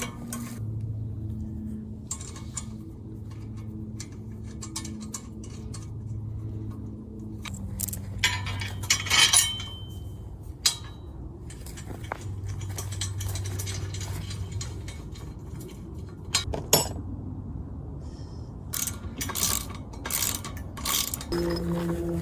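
Metal bolts, washers and nuts clink and rattle as they are fitted to the handle of a tow-behind spike aerator, with a steady run of close, clicking and ratcheting hardware noises over a low hum.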